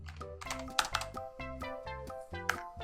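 Mouse clicks and Enter key presses on a computer while drafting architectural roof details in CAD software, a steady run of crisp, close taps in small clustered bursts with no talk.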